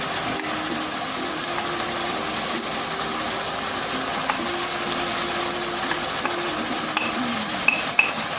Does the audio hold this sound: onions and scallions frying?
yes